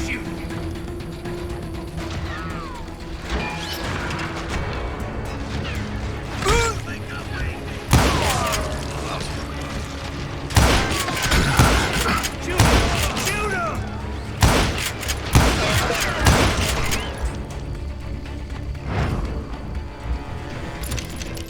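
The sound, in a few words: gunfire in the video game Call of Juarez: Gunslinger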